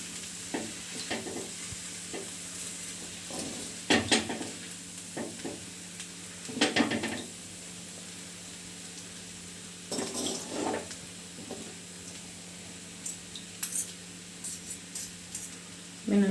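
A fork tosses and mixes vegetable noodles dressed with lemon juice in a pan, giving scattered soft scraping and clinking strokes in irregular bursts over a low steady hum.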